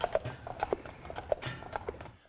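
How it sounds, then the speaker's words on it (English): Horses' hooves clip-clop in an uneven trotting rhythm as they pull a wagon on a cold-weather ride at Chautauqua Institution, moderately close and steady with no talking over them. "listen to the clop, clop, clop of the horses"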